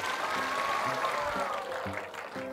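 Audience applause welcoming a student onto a stage at a campus talk show, moderate clapping that is fairly steady at first, then thins and becomes patchier as it tapers off.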